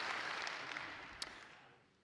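Applause from a conference audience, a dense patter of many hands that is fairly faint and slowly fades over two seconds, heard alone without talk.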